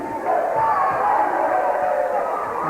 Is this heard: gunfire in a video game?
no